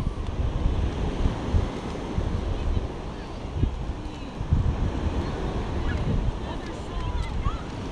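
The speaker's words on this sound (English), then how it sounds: "Check out these big old waves." Big ocean waves rolling onto a beach at low tide, heard as a steady, loud roaring wash with strong wind buffeting the microphone throughout, fairly close and continuous with no distinct breaks.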